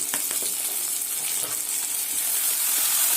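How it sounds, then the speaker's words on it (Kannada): Onion fried in oil in a pan with a small tomato added gives a loud, dense, continuous sizzle close by, with faint stirring clicks underneath. "ಈರುಳ್ಳಿ ಚೆನ್ನಾಗಿ ಫ್ರೈ ಆಗಿದೆ ಒಂದೇ ಒಂದು ಸಣ್ಣ ಟೊಮೊಟೊ ಹಾಕ್ತಾಯಿದ್ದೀನಿ"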